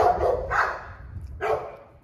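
Large XL pitbull dogs in a suburban setting give two or three deep, close barks with short gaps between them.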